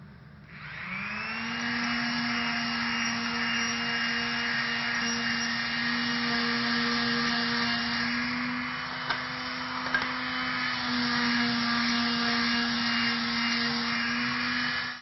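Palm sander working wooden jewellery box parts at a coarse grit over a downdraft table, a steady whirring hum that starts up and runs unbroken for the whole stretch alongside a constant airy extraction roar.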